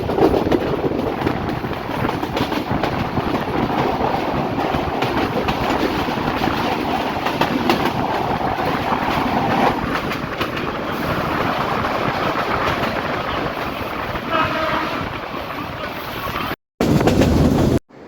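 Parabat Express train taking the Momincherra curve on the Sylhet line, a long even rumble of wheels and carriages with faint clatter and wind, briefly cut out near the end.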